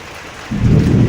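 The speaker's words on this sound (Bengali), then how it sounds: "পুরো মেঘ ডাকছে" Thunder rumbles through a heavy downpour during a storm with thunder and lightning, a loud low roll swelling in about halfway and holding over steady rain, with no voices.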